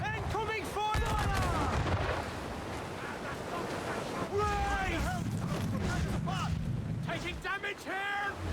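Cannon fire in a naval battle in Assassin's Creed 4 Black Flag, heard as repeated heavy booms and bursts under shouting crew voices and game sound.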